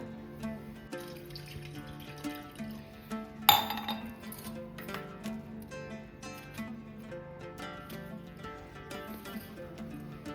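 Washed lentils for dal go into a cooking pot, with light clinks of metal and glass, a splash of water, and one sharper clatter partway through, all fairly soft and close.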